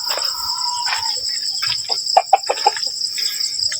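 Old hens clucking in short, uneven bursts near the listener, over a steady high insect-like drone, on a farm.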